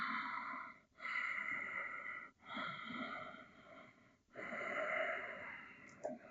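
Slow, deep breaths during a hip opening yoga class, heard close up as three long airy exhales separated by short pauses, with a faint wheezy edge and no talking.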